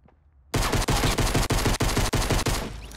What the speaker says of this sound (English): Oh, well, that was like a minigun, boys.